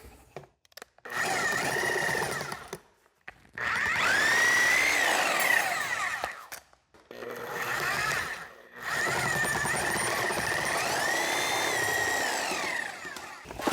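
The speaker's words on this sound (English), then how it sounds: "you do not need to use a Sawzall, but I have it, so it'll make it easier" A Sawzall reciprocating saw cuts 3-inch PVC pipe in three bursts of buzzing, whining strokes with short pauses between, close and fairly loud.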